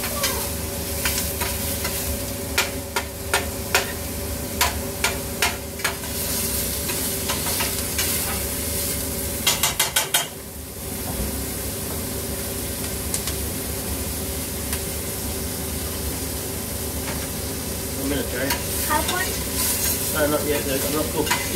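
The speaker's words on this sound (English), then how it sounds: "So let's fry this up a bit." Silver beet greens fry in a pan for a Filipino-style clam soup, with a loud steady sizzle and repeated stirring clatter up close and a brief pause midway.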